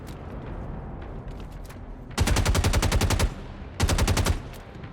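Gunfire from a gunfight in the Star Citizen video game: two loud, close bursts of rapid automatic shots, the first about a second long and the second shorter, over a low background rumble.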